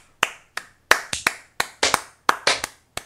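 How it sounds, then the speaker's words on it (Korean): About a dozen crisp, close hand claps from a single person during a game-dubbing session, spaced unevenly in quick bursts against a quiet background, with no talking. "박수."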